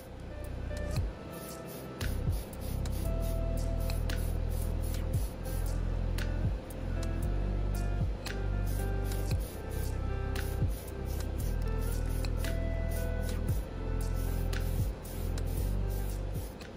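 Spray primer hisses onto the body of an Alpha Model BMW M4 scale model in a long series of short, even bursts, up close and fairly soft, with brief pauses between passes.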